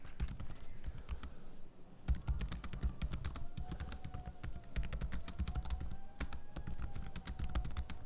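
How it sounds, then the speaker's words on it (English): Typing on the keyboard of an ASUS Zenbook 13 OLED (UX325) laptop, a quiet, fast patter of light key clicks with irregular rhythm, heard close up with no talking. "This is what it sounds like typing on the keyboard of the Zenbook 13 OLED."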